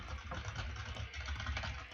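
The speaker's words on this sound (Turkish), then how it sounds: "Kesin klavye sesini" Quiet, continuous clatter of computer keyboard typing during a Murder Mystery 2 gaming session, rapid irregular key taps over a low background hum, with no speech.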